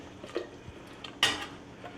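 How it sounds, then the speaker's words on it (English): Vegetables tipped into a chicken noodle soup pot, giving a few light clatters and a sharper scraping clink against the pot, close and fairly quiet in a home kitchen. "our vegetables are all ready to go in the pot"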